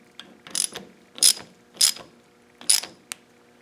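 A ratchet tightens down on a Bosch VE diesel injection pump, giving four or five sharp, close metallic clicking bursts at uneven intervals, followed by a small final tick.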